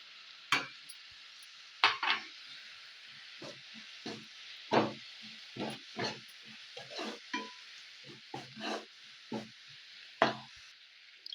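Sweet corn fries on low heat in a pan with garam masala and coriander powder, stirred evenly, with a steady sizzle and repeated scraping stir strokes close by.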